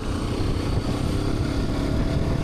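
Hero Xpulse 210 motorcycle with a 210 cc liquid-cooled single-cylinder engine, ridden in its top variant; a steady, loud, continuous engine drone close by, with no one speaking.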